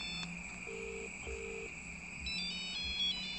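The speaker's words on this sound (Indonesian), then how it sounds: "Gua bisa dengar ringtone-nya" A mobile phone ringtone heard nearby in a village: a repeating pattern of electronic tones and beeps, fairly faint and steady, over a constant background whine.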